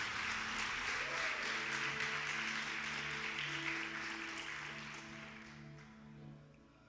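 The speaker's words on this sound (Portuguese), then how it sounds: "Pode aplaudir a palavra de Jesus." A church congregation applauds after a sermon, a dense steady clatter of many hands that fades gradually over several seconds, with sustained organ or keyboard tones beneath.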